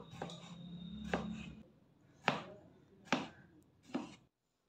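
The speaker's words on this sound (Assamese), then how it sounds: "প্ৰথমতে কাটি লৈছোঁ ফুলকবি। আৰু লগতে 3টা বিলাহী কাটি লৈছোঁ।" Cauliflower and tomatoes being chopped on a board, five sharp knife strikes spaced about a second apart, close and clear against a quiet background.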